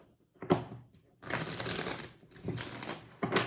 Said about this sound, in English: Can I get a clean shuffle?